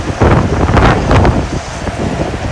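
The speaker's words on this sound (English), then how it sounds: "The wind is coming again." Strong wind gusting outdoors in Hawaii, a loud rushing roar buffeting the microphone, swelling in the first second and staying heavy throughout.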